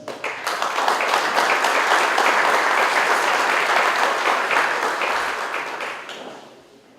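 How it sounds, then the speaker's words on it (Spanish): An audience at an environmental conference applauds to welcome engineer Paul Castillo Cárdenas and his colleague. The clapping is dense and sustained, holding steady for about five seconds before thinning out and fading. "A ellos nuestro aplauso de bienvenida"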